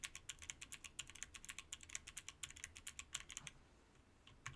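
Custom mechanical computer keyboard with clicky switches being typed on, a brisk run of sharp, evenly spaced close key clacks that stops abruptly near the end, leaving quiet.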